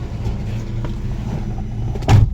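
A 1992 Toyota Corolla driving, heard from inside as a steady low engine rumble, ending with a short, heavy thud.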